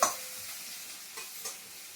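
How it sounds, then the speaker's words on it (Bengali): Onion frying in a hot pan gives a quiet, steady sizzle, with a couple of soft scraping stirs partway through and no voices. "পেঁয়াজটা দিয়ে আমি ভালোভাবে ভেজে নিই।"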